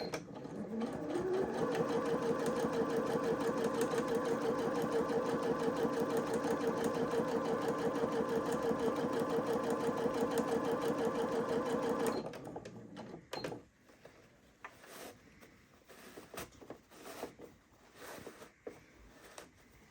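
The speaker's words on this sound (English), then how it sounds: "So I'm only sewing through 2 layers of the fabric." A sewing machine runs steadily through two layers of fabric for a scrunchie, a loud continuous mechanical whir lasting about twelve seconds before stopping abruptly, followed by quieter handling noises.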